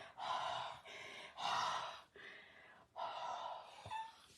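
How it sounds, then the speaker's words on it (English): Breath is blown onto freshly stamped ink on a handmade card: five close, airy puffs of roughly half a second each, separated by brief gaps. "I'm going to blow on this. So my hot breath will moisten that."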